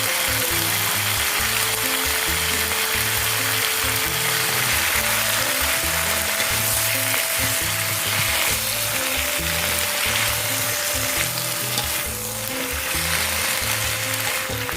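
Vigorous sizzling and crackling from wet cabbage stir-frying in a hot pan over high heat, with steady rhythmic scraping of a utensil, close and loud.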